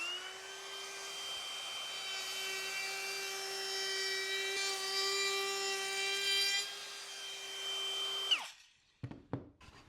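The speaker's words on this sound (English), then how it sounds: "now we'll go ahead and put a chamfer on the edge" Router cutting a chamfer along the edge of a wooden board, a high steady whine with a bright harmonic tone held for about eight seconds, then spinning down, followed by a few faint knocks.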